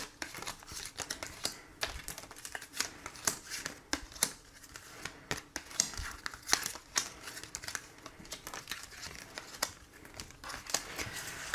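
Tarot cards are shuffled and drawn, making a dense stream of crisp, close card flicks and papery slides. The sharp snaps and rustles come in uneven bursts throughout, with no talk over them.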